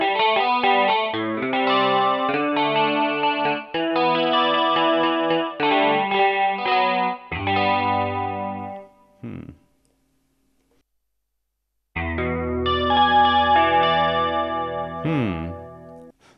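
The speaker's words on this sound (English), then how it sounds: "There are some, I don't know, remotely usable guitar sounds." You Rock YRG-1000 guitar playing a built-in guitar preset, with strummed and picked effected chord phrases, a pause of near silence midway, then more playing.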